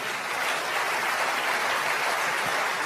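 A church congregation applauds steadily, a dense, even wash of many hands clapping at moderate distance with no voices over it.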